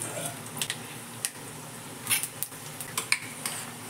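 Bay leaves and five-spice seeds hit hot oil for a tempering, giving a light, close sizzle. Sharp clinks and taps of a utensil against the pan come in irregular bursts.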